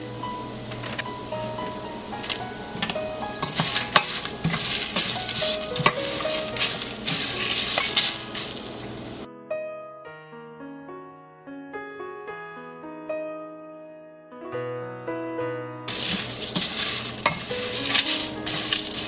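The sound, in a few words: roasting spices and curry leaves on low heat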